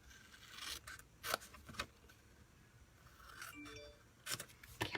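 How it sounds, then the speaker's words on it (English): Scissors trim paper along score lines, giving several quiet, short snips and scraping rubs spaced irregularly, close but faint in a hushed room. "So we're going to just trim it on the score lines, up to the score line."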